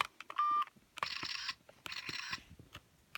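A toy phone with a slide-out keyboard gives three short electronic beeps, each a buzzy tone with small clicks between, quiet and close.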